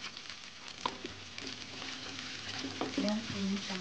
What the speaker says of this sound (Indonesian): Kemudian akan saya masukkan bawang bombay